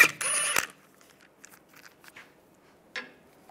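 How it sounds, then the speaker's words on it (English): A 17mm socket turns a lug nut loose on a 1998-2010 Volkswagen Beetle wheel, giving a sharp half-second ratcheting burst up close, followed by scattered faint clicks and one later metallic tick. "Using a 17mm socket, take that out."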